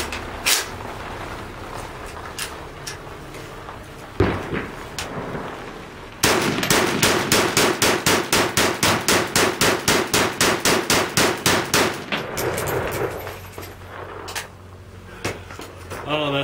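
An I.O. AK-47 rifle fed from a 75-round drum magazine at an outdoor range, first a few scattered single shots, then a long rapid burst of evenly spaced loud cracks, followed by more isolated shots.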